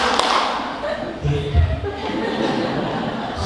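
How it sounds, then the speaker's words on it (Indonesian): Two quick group hand claps ring out in an ice-breaking exercise at a Quran-school teachers' training session, with thuddy muffled hits close together amid steady room chatter and voices. "anak-anak kita tepuk ya, tepuk satu dan satu kali, dua kali"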